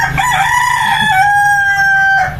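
A backyard rooster lets out one loud, close crow, a long drawn-out call that holds steady for about two seconds before cutting off, with brief clucking sounds around it and no voices.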